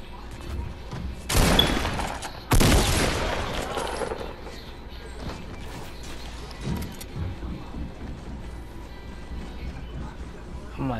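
Gunfire in a video game: two loud broadband bursts in quick succession near the start, followed by quieter sporadic shots and game noise, with people talking over it.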